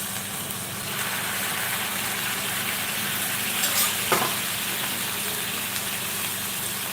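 Curry leaves and chicken salna hitting a hot pan for parotta, a steady dense sizzle and crackle close up, with a brief louder splash as the liquid goes in.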